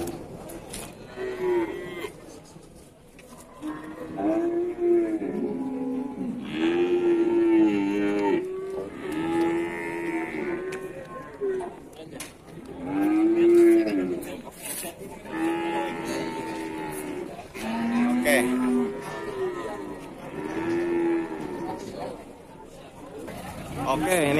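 Simmental and Limousin calves mooing repeatedly at a busy cattle market, several overlapping bawls close by over a steady background of crowd chatter and talk.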